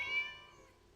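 Cat meowing in the Genshin Impact card game Genius Invocation TCG, a single short tonal meow that fades out quickly, faint and alone.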